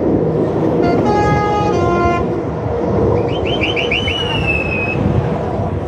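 France's Train Jaune (Yellow Train) sounds a short two-part whistle over steady rumbling, followed by a series of quick chirping toots as it rolls along.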